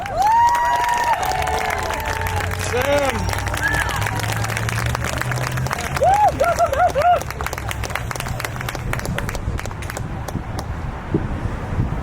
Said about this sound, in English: So please give a round of applause to Samantha Lau.